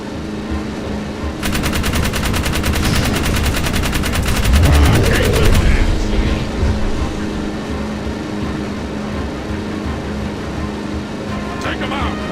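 A vehicle-mounted gun fires in the video game Jak 3, a rapid, loud automatic burst lasting about four seconds over engine rumble and speech, followed by continuing driving noise.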